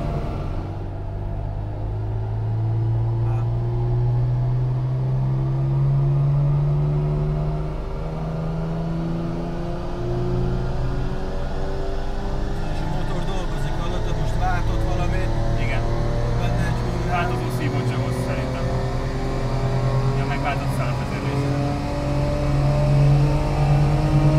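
Porsche 911 engine held at sustained high revs on a dynamometer during a power run, a loud continuous droning roar with rising harmonic sweeps, steady throughout, with no speech over it.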